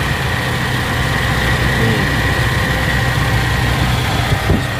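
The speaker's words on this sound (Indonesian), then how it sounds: "Suara mesinnya juga masih halus ya." A 1994 Toyota Kijang Grand Extra long-wheelbase boxy van with a 1.5-litre engine idles smoothly and steadily, a close, even low rumble with a constant hum that runs alone throughout.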